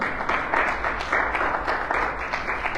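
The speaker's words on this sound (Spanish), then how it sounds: "¿Cuántos aplauden en el nombre del Señor?" A church congregation at a Sunday service applauds together, a close, lively burst of rhythmic clapping in uneven pulses that continues throughout.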